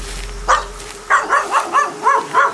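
A dog barks six times in quick succession outdoors at a campsite near woods, sharp, fairly close yelps with a brief gap after the first bark, set against light background hum.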